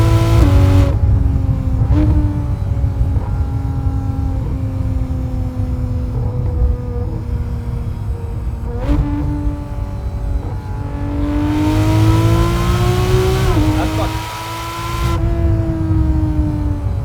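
2016 Porsche 911 GT3 RS engine under way, loud and close, with revs climbing in repeated sweeps broken by quick gear shifts and short lifts, a sustained howling drive without speech.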